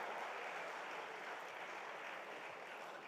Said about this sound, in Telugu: మీ అమూల్యమైన చప్పట్లతో ఒక్కసారి మళ్ళీ కరతాళ ధ్వనులతో గట్టిగా చప్పట్లు కొట్టవలసిందిగా కోరుతున్నాం